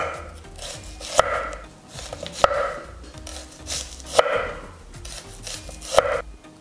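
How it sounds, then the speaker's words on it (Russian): A knife thinly slices onion on a board with a few sharp, evenly spaced chops, accompanied by soft rubbing and scraping between strokes. "Пока маринуется мясо, нарежем очень тонко лучок."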